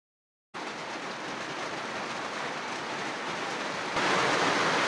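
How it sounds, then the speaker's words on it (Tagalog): Steady rain falls on a rural vegetable plot after a short silence, a dense even hiss that swells slightly louder toward the end, with no voices. "Tatapos lang ng ulan pero parang ulan ulit."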